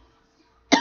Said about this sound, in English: Had to get a little cough attack there.